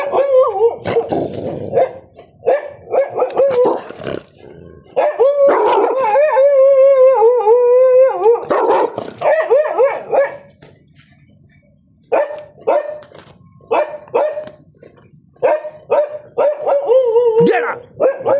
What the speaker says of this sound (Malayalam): രണ്ട് നായ്ക്കളുണ്ട്, വലിയ രണ്ട് അലോക്കിൻ്റെ നായ്ക്കളുണ്ട് ഗൈസ്.